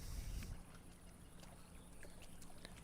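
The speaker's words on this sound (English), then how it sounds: "it's even making splish splash sounds in the water" Water splashing in the video game Microsoft Flight Simulator, a faint, soft wash of watery lapping with one heavier splash at the start, then a steady low churn with small scattered drips.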